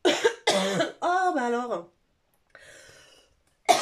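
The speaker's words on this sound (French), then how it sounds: "Désolée si je tousse" A woman coughs twice in quick succession, then speaks briefly and breathes out, with another short cough-like burst at the end.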